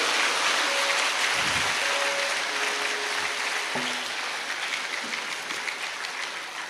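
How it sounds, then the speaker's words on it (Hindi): An assembled gathering applauds one another in a thunderous round, giving loud, continuous clapping throughout, with a few faint tonal sounds mixed in. "एक बार सब एक दूसरे के लिए तालियों की गड़गड़ाहट कर।"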